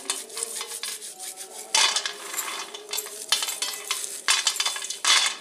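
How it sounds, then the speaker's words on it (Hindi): Roasted peanuts being rubbed by hand to loosen their skins, a dry rustling crackle in bursts of shuffling and rolling, close and fairly loud with no talking. "अब मूंगफली को इस तरह से इसका छिलका उतार लेंगे।"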